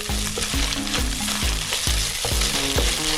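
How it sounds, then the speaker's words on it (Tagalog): Chicken frying in olive oil for pancit canton, a loud close sizzle with regular knocking stirs of a utensil against the pan roughly every half second, no talk. "Fry lang natin ng konti."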